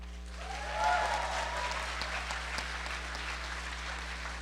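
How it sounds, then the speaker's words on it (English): Graduates of a management program clap together in a large hall during a graduation ceremony, a steady, dense wash of applause lasting throughout, fairly close and even in level. "May I request my classmates to clap for everyone in this hall."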